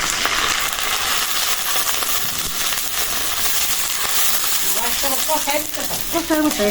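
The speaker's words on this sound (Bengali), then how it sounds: "একটু পানি দিয়ে দিই মশলা গঠনের জন্য" Spice paste with fried onion in pure mustard oil sizzling loudly in a pan after a splash of water, a constant close crackle with stirring scrapes and a few metallic clinks toward the end.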